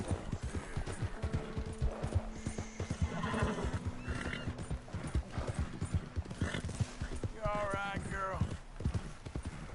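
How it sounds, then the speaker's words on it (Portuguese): A horse neighs and whinnies in Red Dead Redemption 2 while its hooves clip-clop steadily throughout, with a loud whinny near the end, mixed with game sounds and people talking over it. "Ah, mas só vou acalmar aqui o cavalo."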